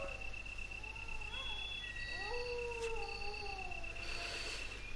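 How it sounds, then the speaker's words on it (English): A dog in Resident Evil Director's Cut on the PS1 lets out a long, distant, wavering howl that rises and falls over a bed of steady cricket-like ambient drone. "The sound of the dog"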